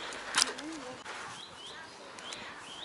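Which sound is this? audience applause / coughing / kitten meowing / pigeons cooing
pigeons cooing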